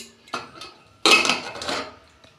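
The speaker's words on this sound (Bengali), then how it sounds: "আমি ঢাকনা খুলছি" A metal lid comes off a cooking pot used for baking an eggless cake on a gas stove, giving a few sharp clanks and a scraping metallic rattle, close and loud, without talk.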